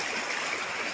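A small hillside stream in the Konkan countryside running down toward a culvert under a road, steady close rushing and gurgling water with no pauses.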